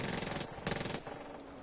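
Machine gun strafing fire in the Far Cry 5 video game, a dense continuous burst of rapid shots that swells briefly mid-way and keeps rattling at moderate loudness throughout.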